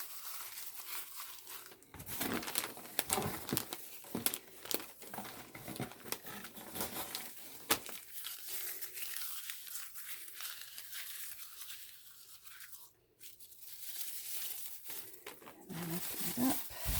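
Paper is crumpled and scrunched up for packing, giving continuous close crinkling and crackling with irregular louder bursts, and quiet voices are heard at times.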